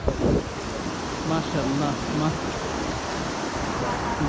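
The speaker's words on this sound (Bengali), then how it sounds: "ঢেউ অনেক ঢেউ এখানে না আসলে আপনি বুঝবেন না যে এখানে কত পরিমাণ যে ঢেউ থাকে" Steady roar of ocean surf at a beach with broadband wash throughout, blended with wind noise; voices faintly audible near the start.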